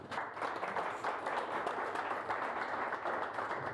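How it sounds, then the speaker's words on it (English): Quick audience applause at a small tech meetup, a steady wash of clapping hands lasting a few seconds at moderate distance, without speech. "Maybe a quick applause for Remo"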